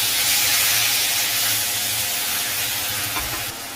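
Ripe tomatoes and onion sauté in a hot pan with a steady, loud, close sizzle and hiss that keeps going without a break and eases off slightly near the end.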